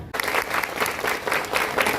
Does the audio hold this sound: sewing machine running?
no